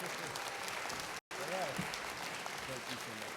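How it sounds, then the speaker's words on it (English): A conference audience applauds a panel steadily, a wash of many hands clapping with a brief cutout and faint voices underneath. "Give them a round of applause."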